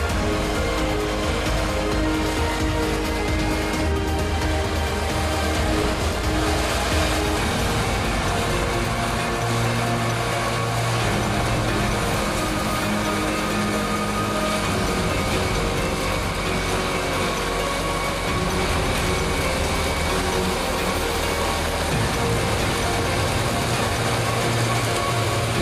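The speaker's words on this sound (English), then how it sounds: "Another load being tipped into a trailer." Harvested peas tipped from a harvester into a trailer at a pea harvest, a steady loud mechanical clatter and rattling rush with a constant machinery drone running throughout, no voices.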